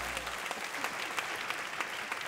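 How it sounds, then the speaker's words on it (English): A crowd claps steadily at a senior pageant in DC, dense applause with a few louder peaks, filling the whole stretch without voices. "Let's give another round of applause."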